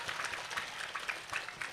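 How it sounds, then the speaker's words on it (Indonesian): A mosque-building committee audience at an Islamic religious talk gives a brief, faint round of applause, a quick patter of scattered hand claps from a small crowd. "Saya minta tepuk tangan dulu dong buat panitianya"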